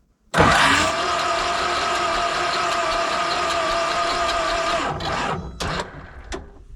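A T-40 tractor cranks on a weak battery: a loud, strained, steady whirring starts abruptly and runs about five seconds, then cuts out, followed by a couple of short cranking bursts and silence.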